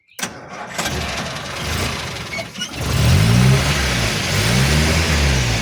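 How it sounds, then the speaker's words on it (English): A military Land Rover's engine cranks, catches and settles into a loud, rumbling idle with a couple of revs, close by, after a few seconds of handling noise. "Majority of people will always start this car and wonder what it is."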